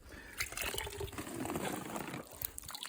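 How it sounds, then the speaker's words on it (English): Water runs into a newly built fish pond, a soft continuous trickling and splashing close by at low volume, no talking. "this is a new pool that was just filling up"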